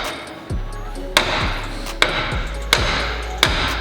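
A hammer bangs repeatedly on a McLaren 600LT suspension part during disassembly, with four sharp metallic strikes in an irregular rhythm, close and loud against a low background hum.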